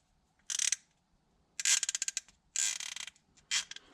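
Icon 3/8-inch flex head ratchet clicking in four short, fast bursts of crisp metallic ticks separated by brief pauses, close up and fairly quiet, with no voices.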